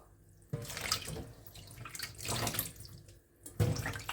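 Enoki mushrooms are rinsed by hand under a running kitchen tap, water splashing steadily into a sink basin with surges and brief pauses as the mushrooms are moved through the stream.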